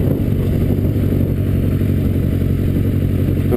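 Motorcycle rumbling along slowly in first gear through a U-turn, a steady loud low engine drone with wind buffeting and no change in pace.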